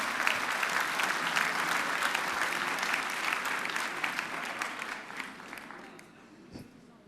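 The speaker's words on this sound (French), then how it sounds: "On l'applaudit bien fort." Studio audience applause on a French game show after a 45-second round, loud sustained clapping that gradually thins and softens toward the end, with a faint voice underneath.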